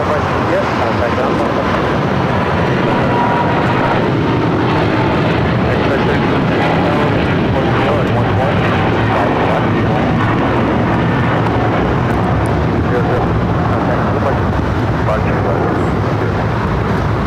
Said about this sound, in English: And that was Eva, Flight 5, heading back to Taipei in the 777-300ER